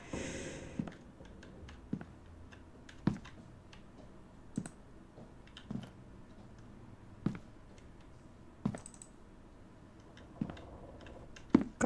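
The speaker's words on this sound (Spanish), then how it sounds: "Clic derecho del ratón." Computer mouse clicks, quiet and close, land as sparse single sharp ticks spaced about a second or two apart over a faint background hum.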